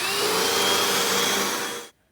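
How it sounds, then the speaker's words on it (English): A vacuum cleaner running across a floor roars loud and close with a steady high whine, then cuts off abruptly near the end, leaving silence, with no talking. "I'm going to do one more time vacuuming"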